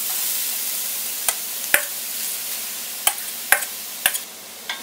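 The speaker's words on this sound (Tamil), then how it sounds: "இனி கேரட் வந்து நல்லா அந்த நெய்யோடு மிக்ஸ் ஆகிற மாதிரி நல்லா மிக்ஸ் பண்ணி விட்டுருக்கலாம்" Grated carrot stirred and mixed in ghee in a pan while cooking carrot halwa, with a soft steady sizzle under a handful of sharp spoon taps and scrapes spaced irregularly.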